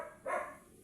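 A single short dog bark rings out, fairly faint and a little distant, against a quiet background.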